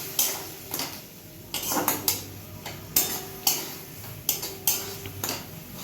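Sardine fish curry being sautéed in a pan with a little water, heard as repeated sharp metallic clinks and scrapes of a utensil against the pan, about a dozen strokes in a steady rhythm over a soft sizzle, close and fairly quiet with no talk.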